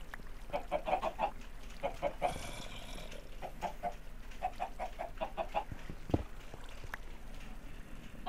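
Several chickens clucking in irregular bursts in Minecraft, close by, with a brief squawk and a sharp thump partway through.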